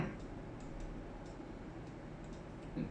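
A large Black Forest cuckoo clock with a cow-milking figure scene ticks softly and evenly in a quiet room, each tick faint but regular.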